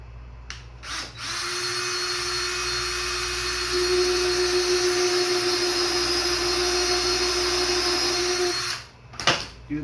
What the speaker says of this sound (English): you're going to definitely want to have one of these bits that pre-drills the holes for you so you don't split the wood